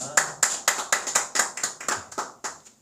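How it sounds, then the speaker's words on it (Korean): A church congregation at a Palm Sunday service gives a round of clapping in praise to God, about eleven sharp, evenly spaced claps in a steady rhythm, slowing and fading slightly at the end. "우리 예배를 받으신 하나님께 영광의 박수 올리겠습니다."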